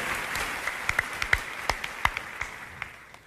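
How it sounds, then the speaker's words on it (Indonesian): Scattered, sparse clapping from a church congregation for the praise and worship team, a handful of distinct claps spaced irregularly, faint and fairly distant in a quiet hall. "Boleh tepuk tangannya di extend buat tim praise and worship kita."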